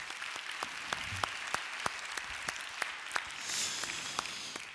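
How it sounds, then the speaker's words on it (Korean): A church congregation claps for the worship band. The applause is fairly faint and thin, with sharp individual claps standing out in an uneven rhythm over a soft background wash. "우리 뜨겁게 연주해 준 우리에게 다시 한번 감사의 박수를 한번"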